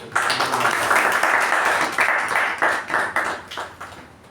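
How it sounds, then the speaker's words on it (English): Audience applause at a Toastmasters meeting, a steady burst of clapping from a room of people that starts at once, holds, then thins into scattered claps toward the end. "A round of applause"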